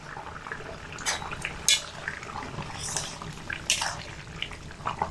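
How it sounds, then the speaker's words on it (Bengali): Eggplant and fish curry simmers in a covered pot with soft bubbling and dripping, plus a few light clinks of pan or utensil, close and moderately quiet. "এবার এর মধ্যে ঢাকা দিয়ে 15 মিনিট ফুটিয়ে নেব"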